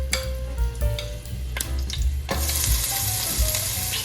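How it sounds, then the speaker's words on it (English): Onions and slit green chilies frying in hot mustard oil, a loud, close, continuous sizzle with a few stirring knocks, growing fuller and hissier partway through. "Stir it until the onions are golden brown."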